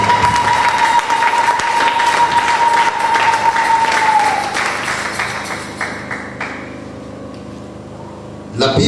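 A church congregation claps and cheers during a Wednesday prayer service, the applause loud and sustained with a steady tone ringing underneath, then thinning out and fading toward quiet near the end.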